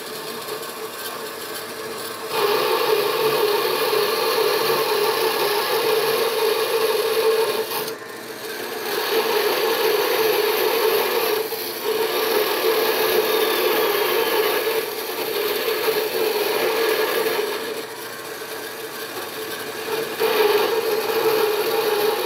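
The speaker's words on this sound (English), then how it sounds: "I'm just using my 4x6 horizontal bandsaw flipped up into the vertical position." A 4x6 horizontal bandsaw set upright in the vertical position cuts thin-wall steel tubing with a too-coarse blade, giving a steady rasping grind in several long passes separated by short pauses.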